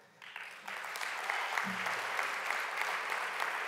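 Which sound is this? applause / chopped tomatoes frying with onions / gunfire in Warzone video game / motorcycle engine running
applause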